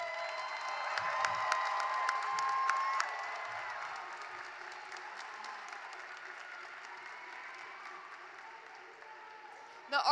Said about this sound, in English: Please join me in a round of applause for the Blue Key Class of 2024 to 2025.